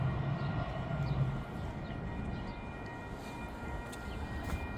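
Twin SD160 locomotives, numbers 1031 and 1035, haul a train away toward downtown, a steady low rumble of engines and rolling cars that drifts off into the distance.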